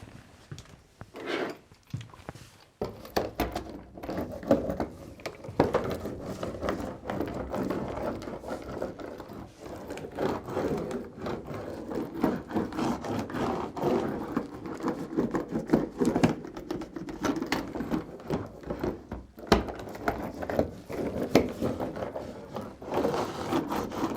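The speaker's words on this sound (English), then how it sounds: "We'll go ahead and press it in place and then roll it" Window flashing pressed into place around a window being installed, then a roller worked back and forth over it, giving a continuous close rattling, ratchet-like rolling with small pauses.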